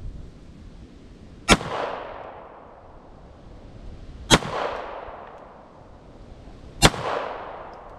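Three sharp Bulgarian Makarov pistol shots fired at a steel spinner target outdoors, evenly spaced about three seconds apart, each a loud crack followed by a long fading echo.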